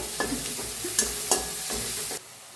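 Onion and tomato fry in a pan for a gaur (cluster bean) curry, a steady sizzle broken by a few scraping stirs near the mic, cutting off abruptly at the end.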